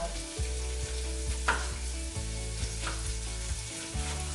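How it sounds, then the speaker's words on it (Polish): Celery and finely chopped onion sizzle and fry in a pan for a simple vegetarian dish, a steady close crackle with a few stirring scrapes and clinks, no voices. "To nam się smaży"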